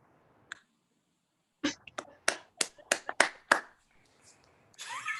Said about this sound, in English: I think that was one clap.